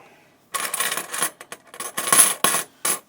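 A roll of silver quarters, $10 face value, clinking and jingling in bright metallic bursts after a brief quiet start, several separate clusters of coin rattles close to the mic with no talking.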